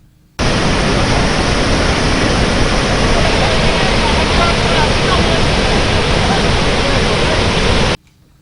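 Floodwater released through the seven raised gates of the Komaram Bheem project dam in Adilabad, 60,000 cusecs after heavy rain, makes a loud, dense, unbroken roar that starts and stops abruptly.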